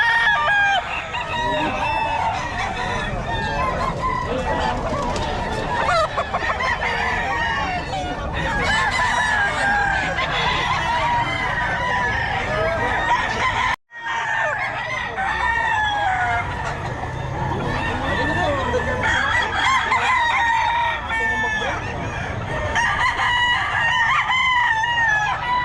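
Gamefowl roosters of the Sweater Dome line crow repeatedly and loudly over a dense, steady backdrop of other birds, with a brief dropout about midway through.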